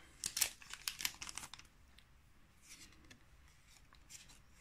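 Foil Pokémon card booster packs for Chilling Reign being cut open with scissors: a quick burst of crisp crinkling and slicing up front, then softer intermittent rustling of wrappers and cards, close and fairly quiet.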